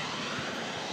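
Airplane engine roar at Kobe Airport on an island in Kobe Harbor, heard from an observation deck as a loud, steady, dense broadband rumble and hiss filling the whole moment with no voices.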